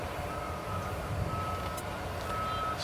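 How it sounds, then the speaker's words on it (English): Reversing beeps from an airport ground operations vehicle near runway 18 Left at DFW Airport at night, a steady faint repeating tone over constant low engine rumble and ambient noise. "I do see a bunch of ground operations vehicles"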